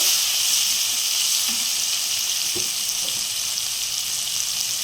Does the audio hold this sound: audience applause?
no